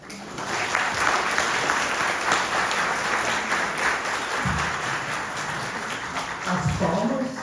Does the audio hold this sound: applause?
yes